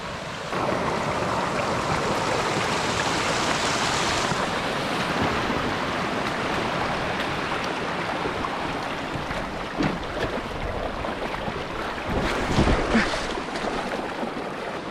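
Heavy floodwater rushing after a big rainstorm, a steady, loud, broadband roar that continues throughout, with wind buffeting the microphone and a few bumps near the end.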